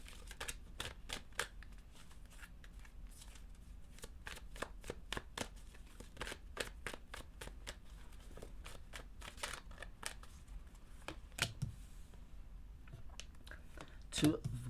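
Tarot cards are shuffled by hand in a quiet room, producing a rapid series of soft, crisp riffling snaps and flicks that continue throughout at close range.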